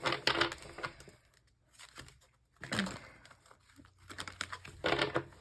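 Tarot cards shuffled by hand in a quiet room, giving bursts of papery riffling and crinkling separated by brief pauses, close and moderately loud, with no one speaking.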